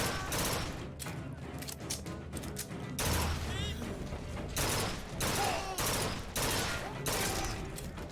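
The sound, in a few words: burst gun firing in a video game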